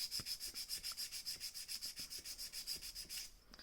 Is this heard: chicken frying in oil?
no